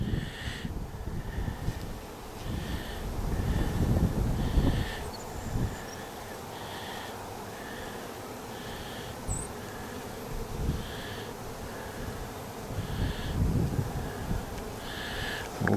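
Honeybees hum at an open hive, a continuous close buzzing with recurring pulsing tones and occasional louder passes of individual bees near the microphone, without any talking.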